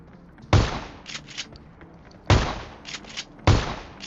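Three loud, close S686 shotgun blasts in a mobile battle royale game, spaced over a few seconds with fainter reloading clicks and game sounds between them.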